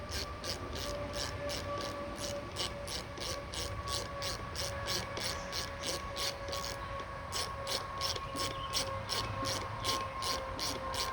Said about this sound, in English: Now we're going to tighten these clamps down.